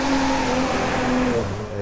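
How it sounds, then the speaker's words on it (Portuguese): A Nissan Skyline GT-R R34 V-Spec II drifting on a Norwegian track in the racing game Driveclub, with a loud, sustained engine whine at steady high revs that dips slightly near the end. "Vamos fazer um drift aqui"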